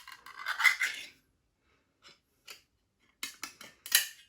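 Someone opens a can of Heinz Beanz with pork sausages in tomato sauce, making short, close metallic rasps and scrapes in separate bursts with quiet gaps between them. No one speaks.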